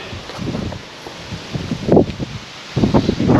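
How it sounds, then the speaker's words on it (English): Strong winter wind gusts outdoors near a chicken coop, buffeting the microphone in rough, uneven bursts with rustling and low rumbling that swell and fade. "this wind is horrendous."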